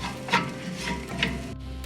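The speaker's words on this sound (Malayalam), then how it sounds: "ഇതിലേക്ക് ഞാൻ മിക്സ് ചെയ്ത് വെച്ചിരിക്കുന്ന മസാലപ്പൊടി ഇട്ട് നന്നായിട്ട് മൂപ്പിച്ചെടുക്കണം" Spice masala with onion and ginger fries in a pan for Kerala-style beef cutlets, a soft, close sizzle broken by two quick scraping stirs, with no talking.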